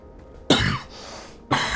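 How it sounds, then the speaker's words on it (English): A man coughs twice, sharp and close, in a quiet room, one burst halfway through and another near the end, with near silence between. "Man, I cannot get rid of this cough this morning"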